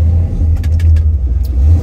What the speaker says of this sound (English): Let's get this thing fired up